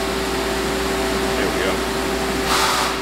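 A CNC mill air-cuts its first pass on vise jaws, giving a constant, even spindle whine over a broad mechanical hiss, with a short rise in hiss near the end and a voice faintly present.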